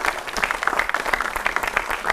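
Studio audience applause on a Hindi TV news debate show as a guest is welcomed, a steady dense wash of clapping that runs evenly throughout without speech over it.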